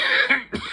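A short cough after inhaling a diamond dab from a Puffco Proxy electronic rig: a breathy, close burst, a brief pause, then a second rougher cough, all in under a second.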